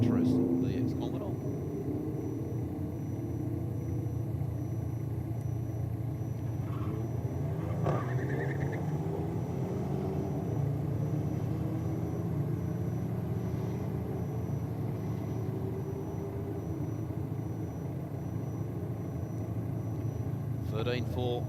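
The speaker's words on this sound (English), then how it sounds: "Honda's lining up again." Drag cars, a Honda and a nitrous VX Commodore, lining up at Sydney Dragway make a continuous low engine rumble for the whole stretch, heard under a commentator's voice over the PA.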